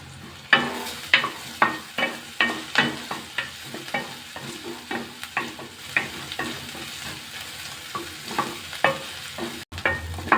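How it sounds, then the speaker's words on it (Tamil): Crushed garlic and curry leaves fry in a pan with a steady sizzle, punctuated by a regular series of sharp scraping stirs roughly every half second, close and fairly loud with no voices. "10 பல் பூண்டு நசுக்கி வச்சுருக்கேன் சேர்த்துக்கிறேன்"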